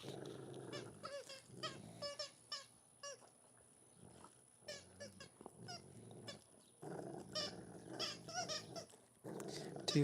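A large 220-pound dog gives high squeaky whines mixed with low growls, close by, in irregular bursts separated by short quiet pauses.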